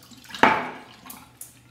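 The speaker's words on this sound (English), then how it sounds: "Pour out the water." Water poured out of a marble shaving cup: a sudden splash into a bowl that tails off, followed by a few light drips, close and alone.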